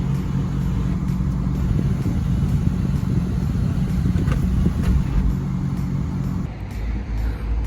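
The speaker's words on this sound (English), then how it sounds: "that is a fun car to drive" Car being driven on a test drive in Asheville, North Carolina, a steady low engine rumble and road noise from inside the cabin, continuous and fairly loud throughout with no talking.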